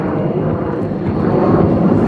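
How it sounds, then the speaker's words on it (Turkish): A loud, steady roar of an F-16 fighter jet engine fills the air at an airfield, broadband and sustained without a break, with no talking. "F-16 da gerçekten çok sesli yani alanı yıkıyor."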